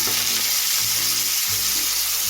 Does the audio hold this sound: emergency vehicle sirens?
no